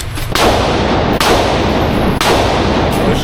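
Three loud, close handgun shots ring out about a second apart, each a sharp crack followed by a roaring, slowly fading echo.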